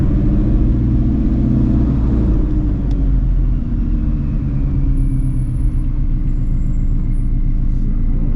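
800HP Shelby GT350 rumbling steadily as it rolls in, a loud, deep continuous engine burble with a slight pitch drift, close by and with no talk.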